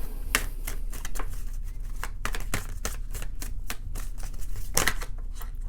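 Oracle cards being shuffled by hand on a table, a dense run of close, crisp riffling flicks and snaps at an uneven rhythm, no talk.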